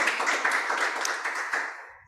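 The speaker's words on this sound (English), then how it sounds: "Please, can we give her a round of applause?" An audience at a Dubai Expo 2020 talk applauds a speaker, a fairly close, steady burst of clapping that tails off and fades out at the end.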